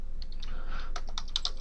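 Typing on a computer keyboard while entering data into an Excel spreadsheet, a short run of close, crisp key clicks in an uneven rhythm, with no voices.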